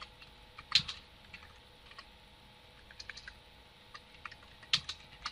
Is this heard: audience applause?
no